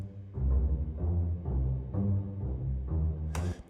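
Orchestral piece played back in Logic without EQ: heavy, boomy low strings and brass swell in repeated phrases, bass-dominated and somewhat muddy, ending with a brief bright cymbal-like splash.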